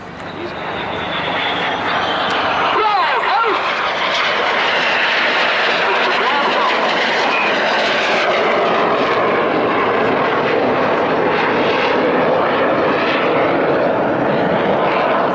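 Red Arrows aerobatic jets performing at the Bournemouth Air Festival, a loud sustained roar of jet engines that swells and holds steady throughout, with a commentator talking over it.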